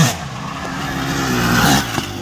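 A 1989 Honda CR500R two-stroke motocross bike races on a track, its engine roaring loud and close in a steady, sustained pull with a brief rise in pitch near the end.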